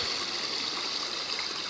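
Natural stone waterfall spilling into a newly built 5,500-gallon fiberglass koi pond, a steady close splashing rush of water with no talking.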